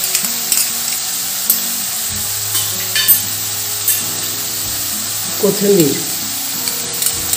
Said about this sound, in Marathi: ही भाजी आपल्याला आता कमी गॅसवरच छान परतून घ्यायची आणि शिजवायची आहे